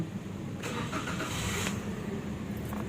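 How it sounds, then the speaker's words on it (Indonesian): A car engine starting up before a warm-up idle: a steady mechanical rumble with a brief cranking and catching burst near the start, close and alone. "Kita nyalakan dulu sebentar."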